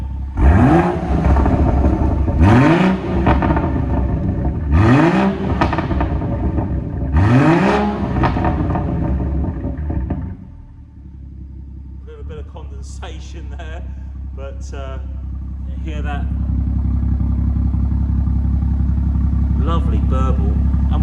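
A BMW 340i Shadow Edition exhaust, in sport mode, revved four times in quick succession, loud and close from behind the car, then a quieter idle and a few brief spoken words.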